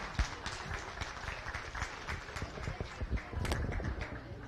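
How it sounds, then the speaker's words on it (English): Audience applause at a county goat and sheep show, a moderate round of scattered clapping from the stands that swells toward the end. "Tell them great job with a big round of applause."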